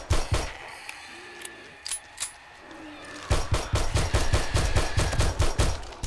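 Automated turret in the 7 Days to Die Darkness Falls mod firing rapid, loud bursts during a day-14 horde night: a few scattered shots, then a sustained, evenly spaced volley of sharp bangs.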